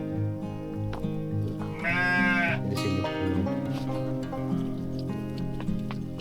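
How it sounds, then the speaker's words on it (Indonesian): Goats and sheep bleat around village houses, several animals calling in overlapping, wavering cries at close to moderate distance, with one louder bleat standing out and someone briefly speaking. "Banyak suara kambing ya di sini."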